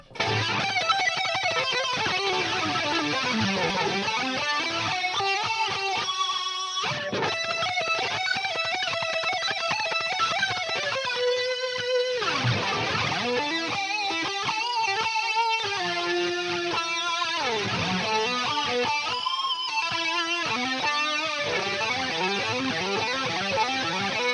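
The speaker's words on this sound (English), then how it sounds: "let's hear some lead tones" A distorted Donner DLP-124S Les Paul-style electric guitar plays a lead line with bends and sustained notes, steady and fairly loud, with no voices.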